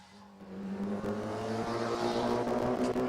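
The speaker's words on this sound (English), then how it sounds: "it's the air dam of that car dragging the ground, which it has done all weekend long" Race car engine droning steadily at a livestreamed racing event while the car's air dam drags along the ground, a sustained loud tonal hum with a slight rise, no talking heard.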